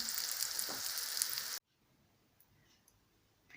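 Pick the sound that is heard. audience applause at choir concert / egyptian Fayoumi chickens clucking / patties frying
patties frying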